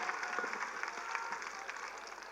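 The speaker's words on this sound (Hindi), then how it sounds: "जोरदार तालियों से इस्तकबाल करें।" A crowd applauds to welcome a speaker at a political rally of the All India Majlis-e-Ittehadul Muslimeen, a steady wash of clapping from many hands filling the hall.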